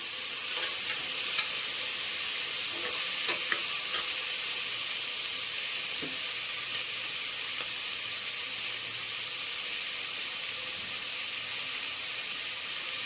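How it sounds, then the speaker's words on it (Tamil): Chopped onion and tomato sauté in a hot pan with a steady, close sizzle and hiss, broken now and then by faint clicks of stirring. "நம்ம கட் பண்ணி வச்சுருக்கிற வெங்காயம், தக்காளி எல்லாம் ஒன்றா போட்டு நல்லா வதக்கிடுங்க"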